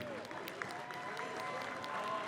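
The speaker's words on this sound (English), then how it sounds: "Give it a round of applause one more time" Steady crowd applause at a Street Fighter 6 tournament top 8, dense clapping from many hands at a distance, sustained evenly throughout with no pauses.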